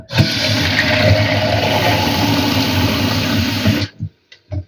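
Steady rushing of water poured from a mug into a jar for several seconds, loud and close, then stopping abruptly, followed by a few small clinks.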